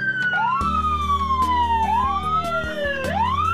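A police motorbike siren wails in repeated sweeps, each tone sliding down then jumping back up, loud and near over a pulsing low rumble.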